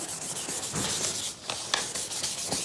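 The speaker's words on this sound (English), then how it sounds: "you don't mind attacking it then with a bit of sandpaper?" Sandpaper rubbed back and forth over a Mercedes-Benz G-Class body part, a steady rasping scrape with uneven strokes, close and fairly quiet.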